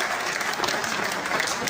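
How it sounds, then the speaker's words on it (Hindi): A crowd at a political rally in Begusarai, Bihar breaks into brief, dense applause, a steady wash of clapping close and loud with no pauses. "कम से कम तालियों की गड़गड़ाहट से नरेंद्र मोदी को धन्यवाद तो दें।"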